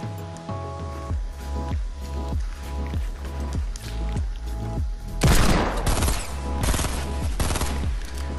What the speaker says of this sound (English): Why would you keep running if I'm shooting at you?